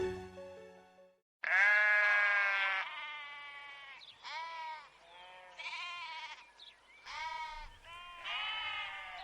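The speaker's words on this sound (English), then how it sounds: "Just watching sheep eating and sleeping all day." Sheep bleating close by, a series of loud, wavering calls, some long and drawn out and others shorter, following one after another with brief pauses, no talk over them.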